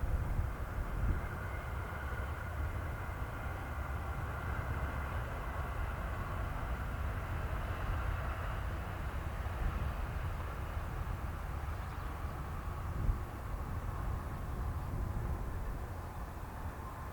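An Amtrak Keystone Corridor train passes at Salunga among blossoming spring trees, a steady broad rumble of wheels and engine holding for the whole stretch with no voices.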